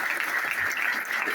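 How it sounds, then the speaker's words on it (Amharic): Audience clapping at a gospel gathering, a brief, even patter of applause at moderate level with no voices over it. "ታሪክን ለመስማት ፍላጎት ካላችሁ በደንብ አጨብጭቡ"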